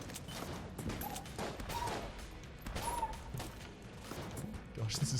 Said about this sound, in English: we're onto the t-shirt cannon now